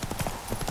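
Horse hooves clip-clop in The Witcher 3 as a quick, close run of several hoof strikes over a short moment.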